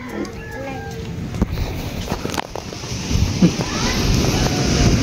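Wind gusts buffet the microphone with a steady rumbling roar that grows stronger toward the end, with a few faint knocks and distant sounds underneath.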